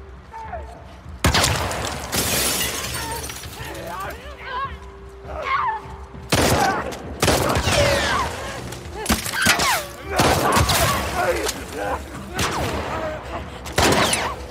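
Bursts of gunfire from the video game The Last of Us Part II crack in several loud volleys, with German-speaking voices talking in between the shots.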